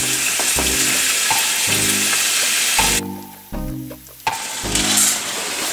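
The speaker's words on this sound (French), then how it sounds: "Je vais rajouter les crevettes." Shrimp sizzle loudly in a frying pan for a rosé sauce, a steady hiss of frying broken by repeated scraping and knocking from stirring, close and uninterrupted by speech.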